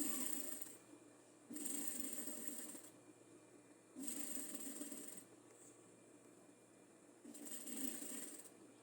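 A sewing machine stitches a sleeve seam, running over an earlier line of stitching: three quiet, close bursts of rapid whirring and clattering, each a second or two long, with short silent pauses between them.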